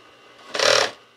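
A noisy high-speed industrial sewing machine runs in a short loud burst of about a third of a second, a dense mechanical whir with a rattling, knocking edge, alone with no talk.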